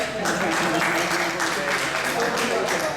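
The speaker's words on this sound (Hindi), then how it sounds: "भाई एक तालियां तो होनी चाहिए" An audience at an education program session bursts into sustained, dense applause, steady and fairly loud throughout, with a voice faintly mixed in.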